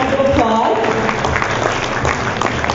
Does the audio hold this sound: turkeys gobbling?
no